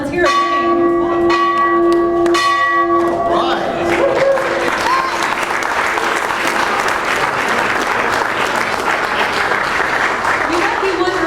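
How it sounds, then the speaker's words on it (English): A bell rings out at a ceremony for an athletics campaign leadership gift, struck several times in quick succession, then gives way to sustained loud applause from the crowd. "Why don't you ring that bell again?"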